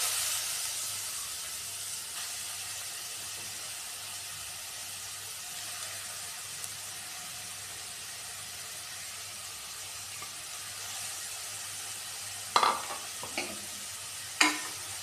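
Grated carrot fries in a spoonful of ghee in a pan, giving a soft, steady sizzle with faint stirring scrapes, and a few sharper clatters of utensil against the pan near the end.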